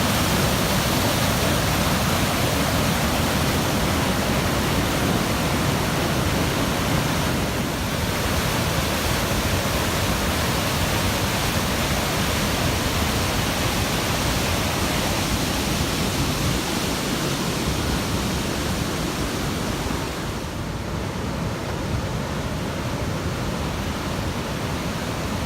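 A raging river rushing with great force through a trough: loud, unbroken roaring water noise that fills the scene for the whole stretch, with no voices.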